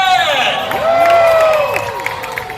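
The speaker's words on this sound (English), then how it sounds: "Men, you are all gonna be cheering for Muhammad over here on this side of the stage" A live stage show audience, with the men in the crowd cheering and shouting together for a contestant at a Fear Factor Live show at Universal Studios, a loud sustained roar with rising whoops and whistles.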